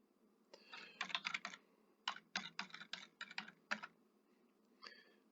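Quick bursts of keystrokes on a computer keyboard as router configuration commands are entered, in clustered runs with short pauses between them, close and clear with no voices.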